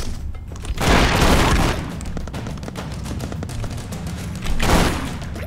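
Gunshots in the side-scrolling game Expendabros, with loud heavy bursts of fire near the start and again near the end and a steady crackle of smaller shots in between.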